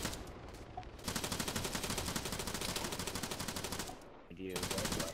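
Sustained rapid machine-gun fire in the military shooter Arma 3, loud bursts with a brief break near the end before firing resumes.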